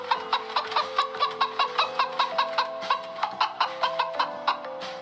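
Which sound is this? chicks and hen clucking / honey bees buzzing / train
chicks and hen clucking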